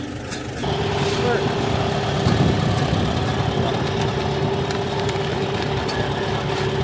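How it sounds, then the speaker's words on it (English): An International Farmall 140 tractor idles outdoors, its engine holding a steady, loud, low chugging hum throughout after a brief quieter start. "that is the best starting tractor we've ever had"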